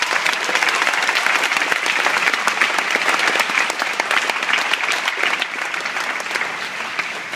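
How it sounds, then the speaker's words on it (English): A large conference audience applauds with steady, dense clapping throughout, loud and sustained, easing off only slightly toward the end. "Let's give them a round of applause."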